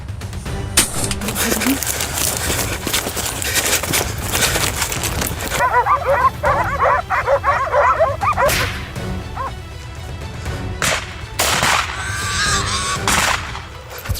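Hunting dogs on a wild boar hunt bark in sharp, irregular bursts amid rustling scrub and other outdoor noise, some barks close and loud, others more distant.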